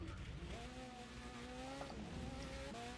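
A race car in a racing video game, US Grand Prix circuit, with its engine note rising and falling through gear changes as it brakes late into a corner, steady and continuous with no talking.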